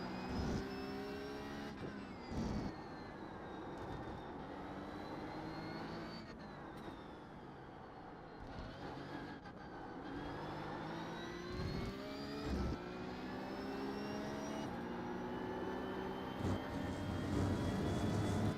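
A Porsche Cup 992.2 race car in iRacing screams at full speed around the Barcelona circuit, its engine note climbing steadily through each gear with brief dips at the upshifts, loud and continuous throughout.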